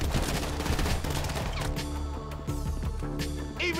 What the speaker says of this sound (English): shoot that gas can